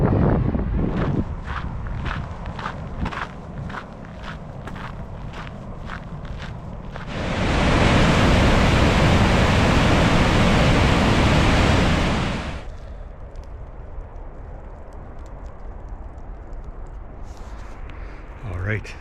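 A waterfall not far from a walker's campsite off the shore of Lake Superior in Ontario gives a steady broadband rush, swelling loud for several seconds in the middle while a person speaks and shuffles around it.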